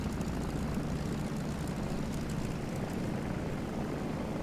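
Old propeller planes, including small Honda-powered ones and a P-51A Reno race plane, drone overhead with a steady, dense engine roar that holds loud and unbroken throughout.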